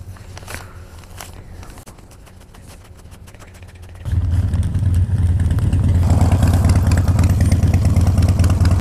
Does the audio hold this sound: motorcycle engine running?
yes